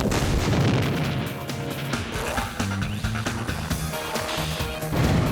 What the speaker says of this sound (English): can an underground explosion really sink a putt?